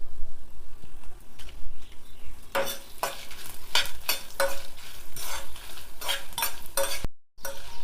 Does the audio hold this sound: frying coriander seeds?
yes